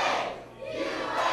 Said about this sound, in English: Livewire is just trying to get these fans to continue cheering USA